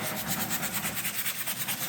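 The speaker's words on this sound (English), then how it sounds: "sanding this all down using 220, smoothing it out" Rhythmic back-and-forth rasp of 220-grit sandpaper rubbing a vintage wooden cabinet, close and fairly loud, repeating steadily with no voices.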